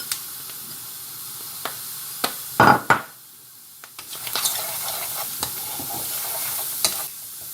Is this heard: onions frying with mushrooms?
yes